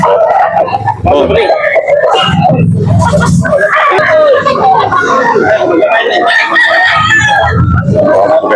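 Roosters crow repeatedly at a chicken sale in Carbon, Cebu, their calls rising over steady nearby chatter and voices throughout.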